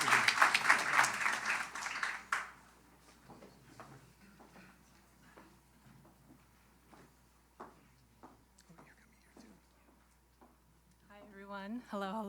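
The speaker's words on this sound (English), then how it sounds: "one more applause for the recipients" Audience applause at an awards gala, loud sustained clapping for about two seconds that drops away quickly, leaving faint scattered thumps and room noise, with a short electronic chiming tone near the end.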